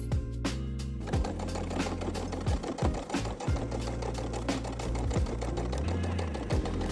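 Close sewing machine stitching a pocket flap onto a denim jacket, with a fast repetitive needle clatter over a steady motor drone and brief pauses between runs, with no voices.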